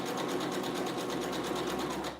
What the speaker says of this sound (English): I'm gonna use the zigzag stitch.